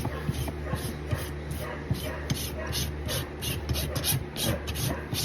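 Rasp filing a horse's hoof during a trim, rhythmic scraping strokes in quick succession close by, with a few soft thumps and shuffling mixed in.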